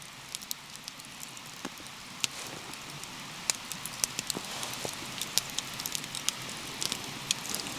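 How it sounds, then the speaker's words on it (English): A large campfire in a mountain forest crackles at night, sharp irregular pops and snaps scattered over a soft steady hiss, close and continuous with no talking. "that fire is just so, can you hear it crackling away?"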